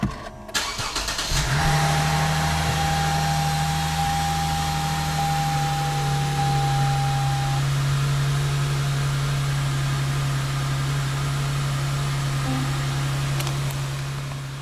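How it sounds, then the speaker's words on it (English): A Lexus GS350 V6 engine cranks and catches, then settles into a steady, even idle that holds for the rest of the stretch, a smooth continuous hum close by with no voices. "So I'm just going to start the car and turn the heat on."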